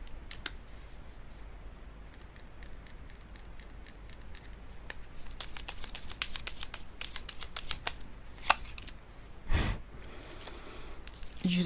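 Tarot cards are handled close up in quiet: a run of light flicks and soft shuffling, busier in the middle, and a louder slap of a card being laid down near the end.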